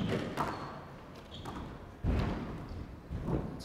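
Squash ball struck during a World Open Championship final match, a few dull thuds and taps echoing in a court over steady crowd and hall noise.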